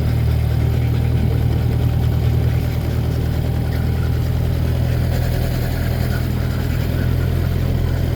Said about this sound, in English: I don't think Birdie likes the big motor.